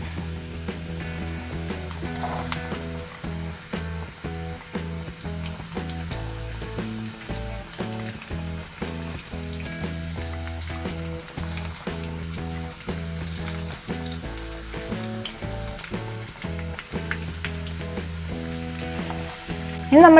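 Beetroot and carrot frying together in a pan for a mixed pickle, giving a steady, continuous sizzle that runs unbroken throughout alongside a tonal, music-like backdrop.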